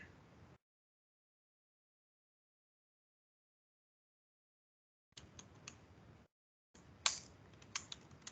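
Bursts of close, quiet typing on a computer keyboard while writing assembly code, brief clusters of key clicks separated by long silent gaps.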